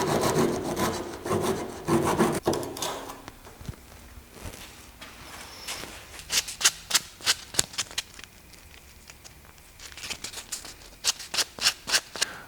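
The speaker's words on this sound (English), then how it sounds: "I'm just going to cut that off on the saw, and I'm going to sand it a little bit" Wood cut on a table saw for a circle-cutting jig: a loud, steady rasping cut for a few seconds, then short rhythmic bursts of hand sanding, strokes repeating in quick clusters close by.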